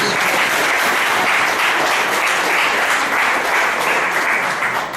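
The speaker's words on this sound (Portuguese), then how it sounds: "Dê palmas para Jesus." Loud, dense applause from a church congregation, a continuous roar of many hands clapping at steady strength throughout.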